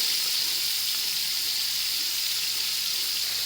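Paneer fries in a pan with a loud, even, unbroken sizzle held close for the whole stretch, with no voices.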